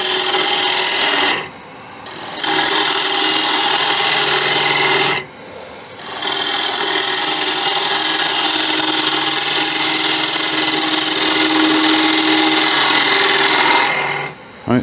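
A wood-turning tool cuts a gentle curve into a spinning wooden toy on a lathe, giving loud continuous rasping and scraping broken by a few short pauses.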